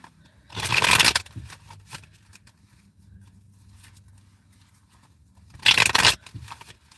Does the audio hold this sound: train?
no